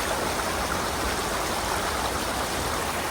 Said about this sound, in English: we got a real river crossing here